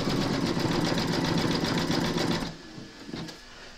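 An embroidery machine stitching an in-the-hoop applique on a shirt runs in a fast, even mechanical chatter for about two and a half seconds, then stops abruptly, leaving faint room noise and a small clack.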